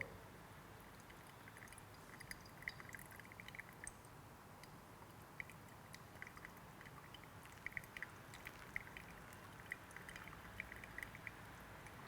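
Water pours over ground Kenyan coffee in a pour-over brewer, a soft, steady trickle with faint ticking drips, quiet and close.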